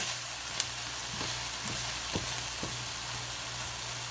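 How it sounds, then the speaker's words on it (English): Ground turkey, defrosted from frozen, browns in a pan with a steady, soft sizzle and a few light clicks of stirring, heard quietly and alone. "I am just browning up some ground turkey"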